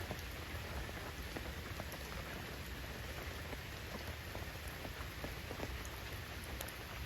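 Steady rain pattering on surfaces beside a swollen river while fishing, an even, close, continuous patter with scattered sharper drops throughout; no voices.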